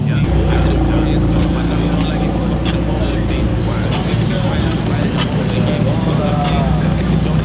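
A Lamborghini STO sports car pulls up close by with a deep, continuous engine rumble beneath loud, overlapping voices of people chatting nearby.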